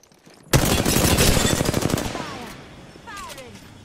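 Rapid automatic gunfire in Apex Legends, a loud close burst of shots starting suddenly and rattling on for about two seconds before tailing off into quieter game sounds.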